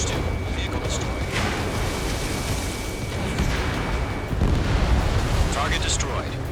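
A destroyed target blows up in Ace Combat 7: Skies Unknown amid steady loud jet and battle rumble, with a heavier booming surge near the end while radio voices talk over it.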